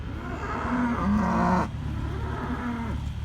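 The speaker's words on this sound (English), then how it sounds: "Is that why you're mooing? You want some hay?" A cow moos nearby while cattle are fed hay bales, a long low bellow that rises and fades, with steady outdoor background noise underneath.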